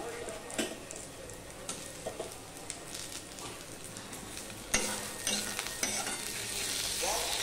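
Slit green chillies and tomato are stirred into browned onions frying in a pan for pabda fish curry, a steady sizzle with intermittent scraping stirs and a sharper hiss as the pieces go in.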